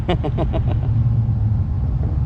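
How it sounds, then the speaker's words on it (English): A turbocharged Ford Coyote V8 street car idles at a roll race event, producing a loud, steady low rumble close by. A few quick sharper bursts come at the very start. "A note from Derek's car."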